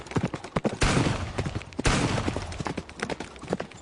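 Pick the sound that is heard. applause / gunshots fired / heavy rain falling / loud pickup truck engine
gunshots fired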